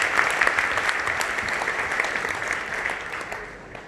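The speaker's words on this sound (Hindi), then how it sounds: "एक बार जोरदार तालियां अपने लिए।" A hall audience at a fifth-anniversary distributors' event in Delhi bursts into loud, dense applause that holds steady for a few seconds before easing off.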